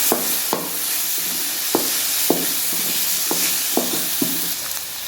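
Ginger and garlic sizzle in a hot pan for egg fried rice, with a steady frying hiss punctuated by about ten sharp scrapes of a spatula stirring.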